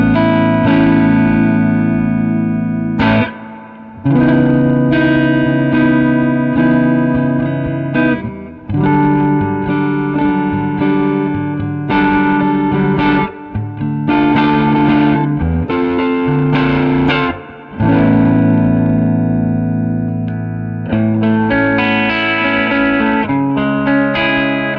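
Electric guitar played through a 1963 Magnatone Twilighter 213R amplifier rings out in sustained chords and notes, loud and close, with pulsing vibrato and heavy reverb tails between short pauses.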